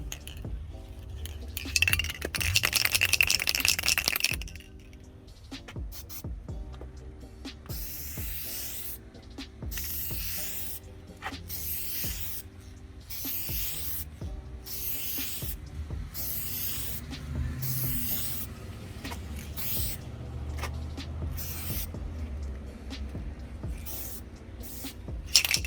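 Pressurized nozzle spray hissing onto a 2012 GMC Denali headlight during stubborn clear coat removal, a steady broad hiss broken by rhythmic on-off bursts, close and continuous with some clinking handling noises early on.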